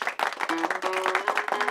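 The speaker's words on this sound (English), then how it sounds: "I'm going to do my applause." A short canned applause effect played by a podcaster, dense clapping and crowd cheering at close range, lasting under two seconds.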